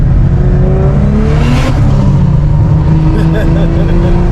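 A 1991 BMW 325i E30 heard from inside on a ride-along, its engine loud and close as it revs and climbs in pitch, the rising note dropping back as the driver shifts gears; a voice speaks over it.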